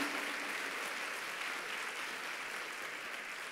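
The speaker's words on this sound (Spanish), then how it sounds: "Dale un fuerte aplauso al Señor" Church congregation applauding the Lord, an even sustained wash of many hands clapping, moderately distant and unbroken, with no talk over it.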